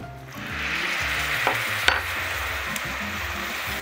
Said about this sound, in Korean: 버터를 넣어줄게요. 넣어서 농도가 생길 때까지 좀 끓여주세요.